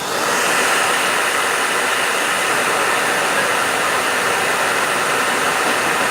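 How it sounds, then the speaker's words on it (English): A blow dryer runs steadily and loudly for the whole stretch, a constant broadband whoosh with no pauses and no voices. "Blow dryer."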